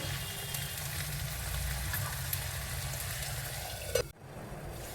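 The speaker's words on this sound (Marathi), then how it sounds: "मी 1 चम्मच अद्रक लसण आणि कोथिंबीरची पेस्ट टाकत आहे. याला तेलात होऊ द्यायचं." Ginger, garlic and coriander paste fries in hot oil with onions for a spicy Nagpuri Saoji fish curry, a steady close sizzle with no talk that cuts off sharply near the end.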